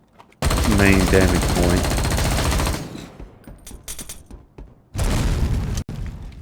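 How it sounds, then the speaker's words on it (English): Rapid automatic gunfire in the game Dysterra, aimed at a boss's weak point, a loud sustained burst then a shorter one, with someone speaking briefly between them. "you want to shoot that little wheel looking device on the back of his head"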